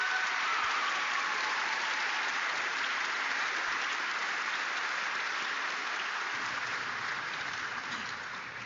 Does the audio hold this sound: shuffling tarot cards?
no